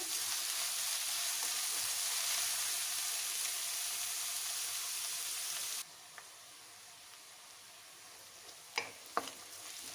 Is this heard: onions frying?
yes